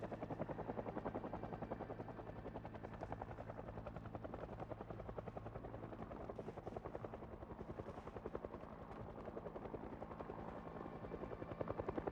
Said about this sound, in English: We'll wait for the helicopter to pass.